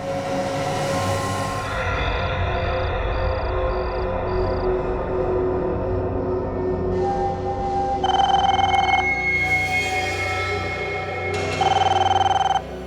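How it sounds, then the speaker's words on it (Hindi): An old-style telephone bell rings in bursts at night, a sustained trilling ring alone against a low steady background hum, with a pause between rings. "किसका फोन हो सकता है?"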